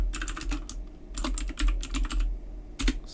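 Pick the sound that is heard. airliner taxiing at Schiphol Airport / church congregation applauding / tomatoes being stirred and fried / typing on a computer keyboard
typing on a computer keyboard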